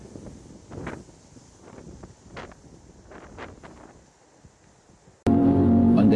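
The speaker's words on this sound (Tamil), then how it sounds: "நல்ல குளுமையான காற்று வீசின்னு இருக்குது" A cool wind blows along a riverside walking path, gusting in uneven bursts against the microphone for about five seconds. The wind noise then cuts off abruptly and loud, steady music takes over.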